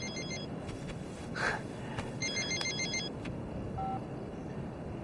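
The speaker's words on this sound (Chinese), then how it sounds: "你的电话" A telephone rings in a quiet indoor room during a drama scene, with a repeating electronic ringtone pattern of short bursts, moderately loud and unaccompanied by talk.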